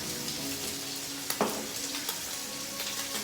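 Ribeye steak frying in a hot pan gives off a steady, close sizzle that runs throughout, broken by a brief clatter or scrape partway through, with no talking.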